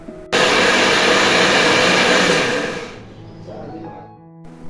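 A mixer grinder whirs loudly as it grinds a spice paste for a jackfruit curry, its motor starting abruptly, holding a steady high roar for a few seconds, then winding down to a low hum.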